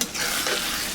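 Spice paste for egg curry fries in a pan with a loud, continuous sizzle and the scrape of stirring, close by and with no talk.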